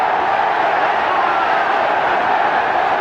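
A stadium crowd at an Arsenal v Spurs football match roars and applauds in a dense, steady wash of sound, with a commentator speaking over it.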